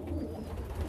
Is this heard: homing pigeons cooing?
yes